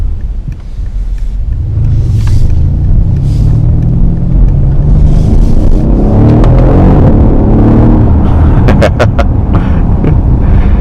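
A 2015 Mercedes-Benz S63 accelerates hard, its engine rising through rough rumbling pulls, then a rapid burst of sharp exhaust pops and crackles on the upshifts, loud and close with wind buffeting the microphone.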